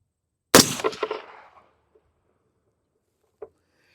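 A suppressed POF Revolution .308 piston rifle fires a single sharp, loud shot outdoors. The report rolls away in a decaying echo over about a second, and a faint distant knock follows a few seconds later.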